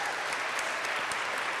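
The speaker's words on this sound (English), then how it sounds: "Can we all give Amanda a big round of applause?" A brief stretch of steady audience clapping at an evening talk, many hands at once, even and moderately loud throughout with no voices.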